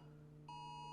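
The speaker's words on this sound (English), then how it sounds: "I'm sorry if you hear a beeping sound." A phone sounds an emergency flash flood warning alert, a sudden steady electronic tone starting midway and holding, faint over a low background hum.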